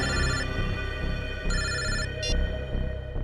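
An electronic telephone ringtone trills in repeated bursts over a steady low hum, loud and close, with no talking.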